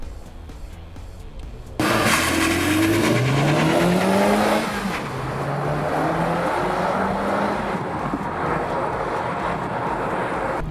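Honda Civic Type R on a warm-up lap at NCM Motorsports Park in Bowling Green, Kentucky, its engine loud and close, rising in pitch through several gear pulls and holding a steady drone. No one speaks over it.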